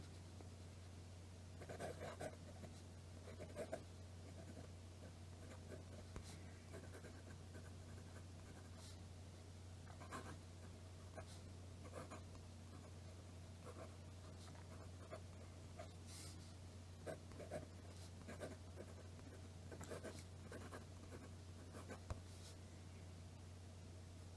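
Fountain pen nib scratching across paper in short, quiet strokes and bursts, faint and close against a steady low background hum.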